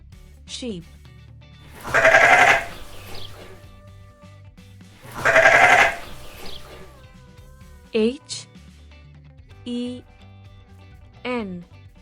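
A sheep bleats twice in loud, wavering calls, followed by a few shorter vocal sounds, with spoken voices briefly heard between them.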